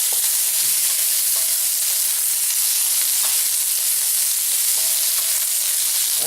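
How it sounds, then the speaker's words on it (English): Peppers sear in a hot oiled pan with a loud, steady sizzle and crackling hiss that fills the whole stretch, close up, with faint stirring clinks and no speech. "There we go, there's that sizzle we want to hear."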